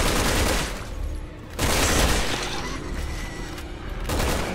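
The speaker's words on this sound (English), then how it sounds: "I'm shooting him." Rapid gunfire from Resident Evil 6 rattles in dense, loud bursts, broken by brief pauses between volleys, close and without talk.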